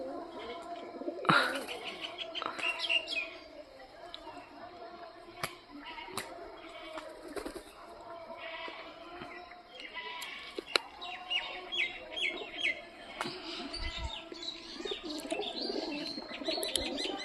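Native domestic pigeons coo in a loft, layering soft, rolling coos and murmurs close by with occasional sharper calls and wing flutters, continuous and unhurried over a quiet background.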